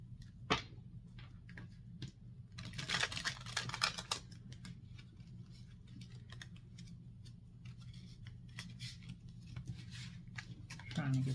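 A deck of tarot cards is shuffled and cut by hand at close range, giving bursts of riffling, flicking card sounds with scattered taps and clicks, while a voice talks quietly in the background.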